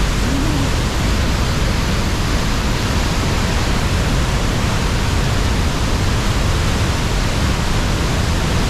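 A waterfall carries rushing water down from rain- and snow-fed mountains, making a loud, unbroken roar that fills the whole stretch with no pauses.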